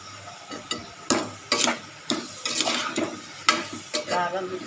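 Tomato pieces fry in oil with chili powder and salt as a spoon stirs them in a pan, giving repeated close scraping strokes over a steady sizzle.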